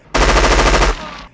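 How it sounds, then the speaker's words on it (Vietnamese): A fast burst of automatic gunfire is fired into a door, a loud, close rattle of rapid shots lasting under a second, then fading into a brief ringing tail. "Chàng xả một loạt đạn vào cửa."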